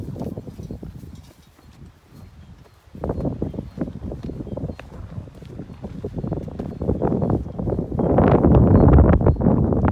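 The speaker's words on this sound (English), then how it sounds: "It's very windy today, so I might just get quite a bit of wind." Low, buffeting rumble of wind hitting a microphone, gusting unevenly and growing heavier and louder toward the end, with no clear speech.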